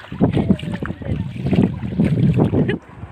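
A vehicle pushes through knee-deep floodwater on a village dirt road, with a steady sloshing, splashing rush of water close by while people talk over it.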